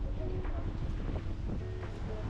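Wind buffets a microphone by the seaside near boats and a small buoy, a constant low rumbling gust that fills the clip with faint background sounds.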